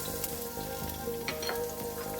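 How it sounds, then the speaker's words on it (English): Garlic sizzles in hot olive oil with a steady, close crackle and spit, while a faint hum runs in the background. "You can hear that little sizzle, and in goes our garlic."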